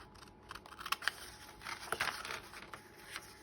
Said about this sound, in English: And then get the scissors. I'm going to cut these corners